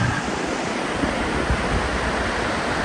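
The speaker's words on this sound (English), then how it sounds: "this is some powerful water." Powerful rushing water in a green area of British Columbia, a dense, continuous roar close to the microphone, steady and loud with no voices.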